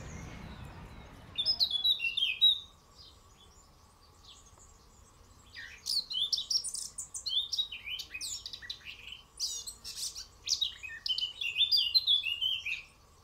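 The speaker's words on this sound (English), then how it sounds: "The male of Eurasian black cap takes the opportunity to sing his song from the nearby almond tree." A male Eurasian blackcap sings from an almond tree in a pond-side garden, its bright warbling phrases coming in repeated bursts over a quiet background with faint insect hum.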